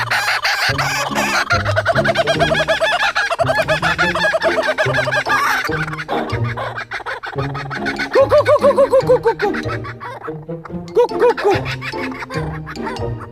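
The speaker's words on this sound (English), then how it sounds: "Kookaburra fight." Kookaburras fight, squabbling and calling at close range. Loud, raucous cackling bursts come in rapid repeated notes, a long stretch at first, then broken calls with short pauses between.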